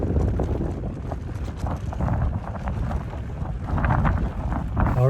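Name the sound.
wind blowing into the microphone in Kirkenes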